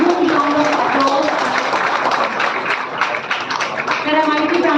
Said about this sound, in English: Please welcome him with huge round of applause